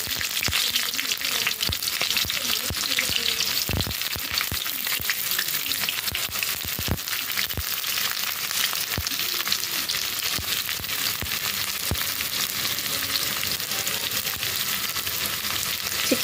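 Onions sizzle and fry in hot oil with cinnamon, cloves and cardamom for chicken biryani, a steady dense crackle with occasional sharp pops and stirring, close and loud throughout.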